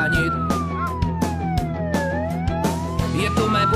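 A fire engine siren wails at a firefighting foam demonstration, loud and close, its pitch sweeping down and back up over a rumbling engine and clattering noises.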